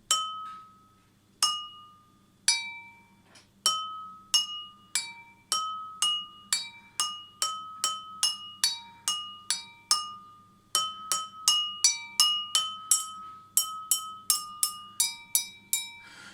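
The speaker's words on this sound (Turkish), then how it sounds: "Elimize kalemimizi aldık ve sırayla bardaklarımıza vuralım." Water-filled glasses are tapped one after another with a pencil, producing clear ringing clinks at different pitches. The taps start spaced out, then come faster, like a simple tune.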